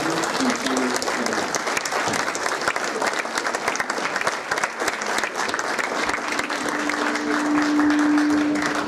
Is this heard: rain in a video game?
no